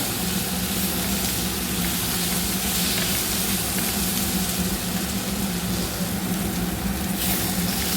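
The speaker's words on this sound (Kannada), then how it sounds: "ನೋಡಿ ಯಾವ ಥರ ನೀರೆಲ್ಲ ಹೋಗಿ ಫ್ರೈ ಆಗ್ತಾ ಇದೆ ಅಂತ." Tomato chutney fries in a pan, giving a constant, dense sizzle and hiss that holds steady at close range throughout with no talking.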